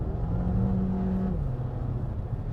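A 2023 Jeep Renegade's small 1.3-litre engine drones loudly from inside the cabin, its steady hum dipping slightly in pitch partway through.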